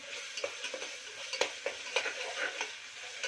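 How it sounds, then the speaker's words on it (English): Onions, ginger garlic paste and green chili sizzle steadily in a pan while being stirred, with soft, regular scraping taps of a spoon over the frying hiss; no talking. "Now frying everything, whole garam masala."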